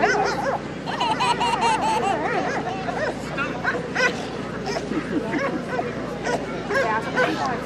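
A police K9 barks repeatedly at a community night-out demonstration, loud and close, while a crowd laughs and chatters around it.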